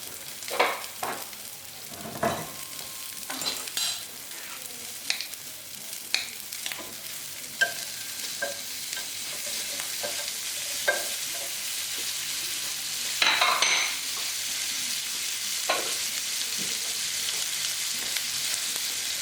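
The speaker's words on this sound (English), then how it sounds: "Now I'm going to put in my whole onions. I'm just going to get a tiny bit of colour on these" Whole onions frying in a little butter in a pan for coq au vin, a soft steady sizzle punctuated by scattered clicks and scrapes as they are moved and stirred.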